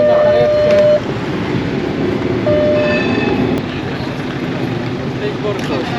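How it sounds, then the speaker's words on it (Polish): A tram rumbles past nearby with loud rolling wheel noise and brief squealing tones, while people talk in the background. "uważajcie, bo jedzie tramwaj"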